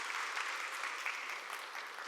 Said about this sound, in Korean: 우리 축복하는 박수 한번 할까요?